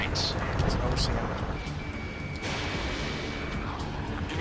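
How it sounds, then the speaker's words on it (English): Battle noise from the Ace Combat 7: Skies Unknown game in a city under martial law: a dense, continuous roar of jet engines and distant gunfire echoing, loud and sustained with a faint whine running through it. "Gunfire and the roar of jets echoing through the streets."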